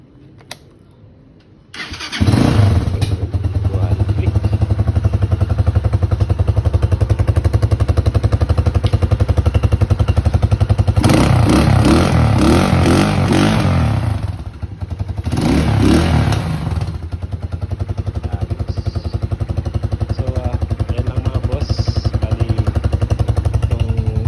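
After a quiet start, a Euro Daan Hari 175 motorcycle with a newly fitted battery and starter cranks and fires up, then runs at a loud, close, steady idle with a couple of throttle blips.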